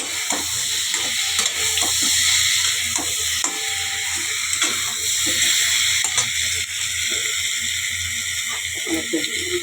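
Egg and potato frying with bottle gourd in a spiced Bengali curry, a steady close sizzle with stirring clatter of a spatula in the pan throughout.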